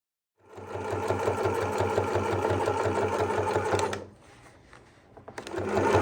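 A sewing machine back stitches through several thick layers of fabric on a harvest apron, running steadily and loudly for about three and a half seconds, pausing briefly, then starting up again near the end.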